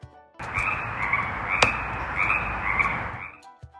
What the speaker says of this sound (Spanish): Este es el sonido que hace una rana.